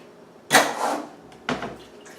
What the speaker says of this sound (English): So I'm going to just pour this right into here and strain this out.